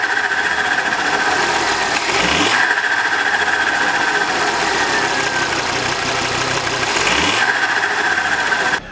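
Turbo blow-off flutter from a Ford Focus fitted with a silicone joiner, heard as two distinct bursts several seconds apart over a steady idling engine drone, close and fairly loud with no talking.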